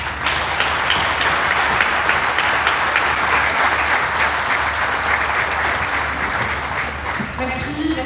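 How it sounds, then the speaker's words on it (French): Crowd at an inauguration ceremony for a butane storage cavity near Sidi Larbi claps loudly and continuously, a thick wash of applause over a low hum that fades slightly near the end. "De les applaudir comme il le faut"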